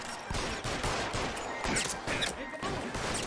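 Rapid bursts of gunfire from the video game LA Noire crackle loud and close in a dense fusillade, with repeated volleys and brief gaps over about three seconds.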